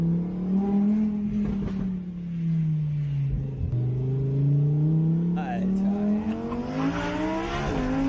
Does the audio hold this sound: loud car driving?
yes